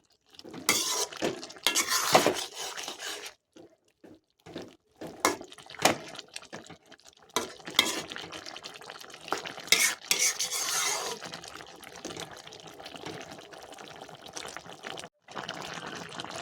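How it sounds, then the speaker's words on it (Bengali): Spoon stirring chunks of young jackfruit with a little sugar in a cooking pan, repeated scraping and clattering against the metal in uneven bursts with short pauses, close and moderately loud with no talking. "চিনিটা দিয়ে ভালো করে নেড়ে চেড়ে নেব।"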